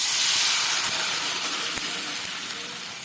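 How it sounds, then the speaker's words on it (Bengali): Water is poured into a hot pan of frying vegetables seasoned with salt and turmeric, giving a loud, steady, close-up steamy hiss and sizzle that slowly fades a little. "দিয়ে এবার আমি এর মধ্যে জল দিয়ে দিচ্ছি"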